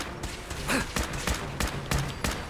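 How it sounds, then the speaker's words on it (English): Fifty-caliber gunfire in Fallout 4, heard as about seven sharp, loud, close reports fired in an uneven rapid string over low game ambience. "I just shot the damn legs off him. Fifty cal."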